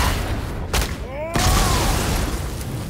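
A couple of sharp booming blasts with a brief swooping whine, set against a steady noisy background of game action in God of War on PS4.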